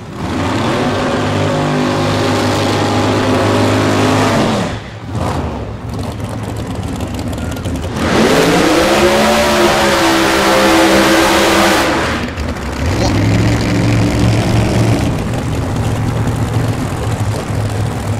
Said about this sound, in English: it is also a classic Pro Mod battle of nitrous versus blower motor